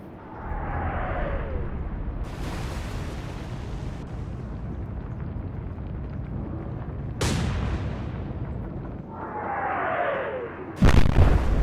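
Naval gunfire from warships in the Atlantic Fleet game, aimed at an enemy ship's rear turrets: several heavy booming salvos over a constant low rumble, with sharp loud bursts near the middle and at the end.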